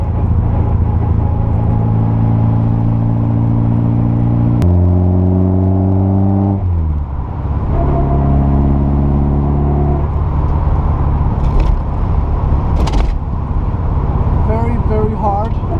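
A 1971 Toyota Celica TA22 on its first test drive, heard from inside with a loud, steady engine drone that climbs in pitch through the gears, drops as it shifts, and rises again, with bumps and rattles toward the end.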